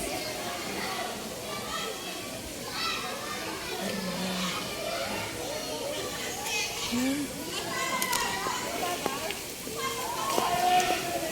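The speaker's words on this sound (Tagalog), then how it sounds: "Ang dami naliligo, guys." A crowd of people bathes at the Moon River Resort, with continuous splashing water under loud, overlapping chatter and shouts of children playing nearby.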